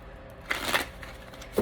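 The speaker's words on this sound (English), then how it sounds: "so let's give it one more shuffle here." Tarot cards being shuffled by hand during a full moon reading, a few soft brief riffling bursts close by with quiet pauses between, no talking.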